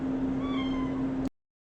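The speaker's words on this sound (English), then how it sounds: "I have a kitty in the background that is crying for some reason" A kitten gives a single drawn-out meow, somewhat distant in the background, before the sound cuts off sharply.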